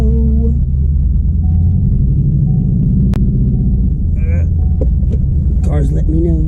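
A warmed-up car drives around town, its engine a steady low rumble and throb from inside the cabin, with someone talking over it throughout.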